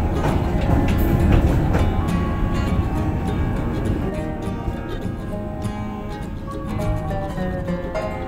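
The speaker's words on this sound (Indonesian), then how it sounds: "Sesaat lagi kereta api Pangrango akan tiba di stasiun Parungkuda." The Pangrango passenger train rumbles and rattles as it arrives at Parungkuda station, heard from inside with a steady loud rolling noise and clicks from the wheels, easing slightly as it slows.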